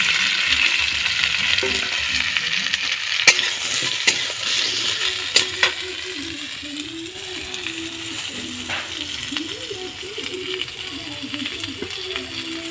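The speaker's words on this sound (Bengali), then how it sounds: "এরপর আমি যে ফুলকপিগুলো কেটে রেখেছিলাম এগুলো হালকা করে একটু ভাজবো।" Cut cauliflower pieces frying lightly in a pan, a steady sizzle with occasional stirring clinks and scrapes of a utensil over the whole stretch.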